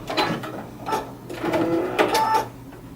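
A sewing machine stitches a short tack down on folded fabric corners, making quick bursts of rapid mechanical needle clatter, close and fairly quiet, with brief pauses between runs.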